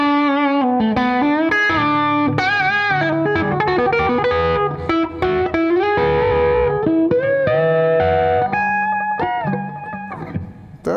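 Electric guitar in an out-of-phase pickup setting on a G&L Tribute Will Ray, thin and Strat-like with slight distortion: a lively lead line of bends, slides and quick runs, ending on held notes, loud and close.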